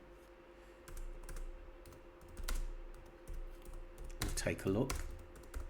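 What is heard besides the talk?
typing a message on a computer keyboard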